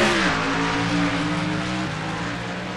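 Race cars accelerating hard around Sonoma Raceway in Northern California during the Dinoco Light 350 Piston Cup race in a video game, a loud sustained engine drone with rising pitch and no talk.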